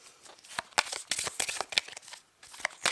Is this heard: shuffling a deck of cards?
yes